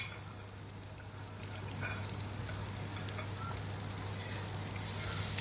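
Garlic and onion sizzle and fry steadily in butter in a pan for shrimp, a dense close crackle that swells slightly louder partway through, with no talking.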